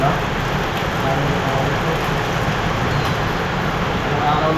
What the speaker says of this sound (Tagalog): tuloy-tuloy pa rin po yung pagbuhos ng ulan